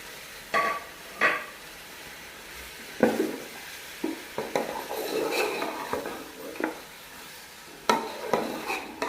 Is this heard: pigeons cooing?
no